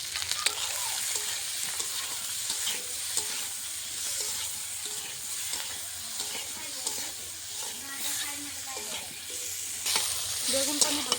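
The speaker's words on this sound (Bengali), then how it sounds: "বেগুনের মধ্যে সামান্য একটু নুন দিয়ে আর হলুদ গুঁড়ো দিয়ে ভেজে রেখে দেবো।" Eggplant pieces fry in a pan with a little salt and turmeric powder, a steady close sizzle with repeated scraping stirs throughout and no talking.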